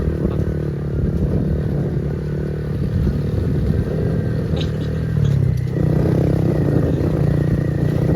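A motorcycle engine labors steadily while climbing a steep, rough road on extreme terrain, a continuous close drone with a slight rise in effort near the end.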